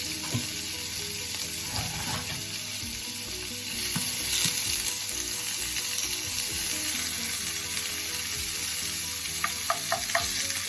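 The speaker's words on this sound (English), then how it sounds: "I'm gonna go ahead and just dump all of my vegetables in" Vegetables dumped into a hot pot still hot from frying fish, crackling and sizzling loudly and continuously, with a spoon stirring and clinking now and then and the sizzle growing stronger partway through.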